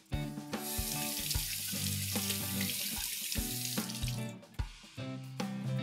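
Tap water runs steadily into a sink as purple yam is washed beneath it, a loud close broadband rush with brief interruptions and clunks as the stream is broken.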